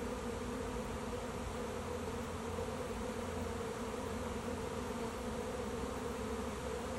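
A honey bee swarm moves into a swarm trap, a dense, steady buzzing hum of many bees that fills the whole stretch, close and unbroken, with no voices.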